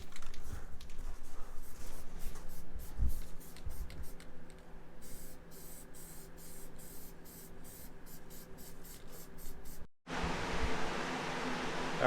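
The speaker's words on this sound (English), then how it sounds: "hopefully you can hear me over the stupid heater running" A heater runs in a garage workshop, giving off a steady, loud broadband whoosh with a low hum beneath. It cuts out briefly around the ten-second mark, then resumes just as loud. No one speaks.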